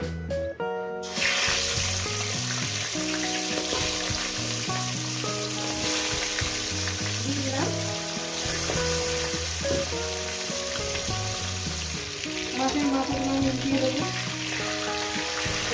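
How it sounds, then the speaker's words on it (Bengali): Fish heads fry in hot salted oil, a loud, dense, continuous sizzle with bursts of spattering close up, some faint watery clatter mixed in and no talk. "তেলটা গরম হয়ে গেছে দিয়ে দেবো লবণ দিয়ে দিলাম এরপর আমি মাছের মাথাগুলো এক এক করে দিয়ে দেবো"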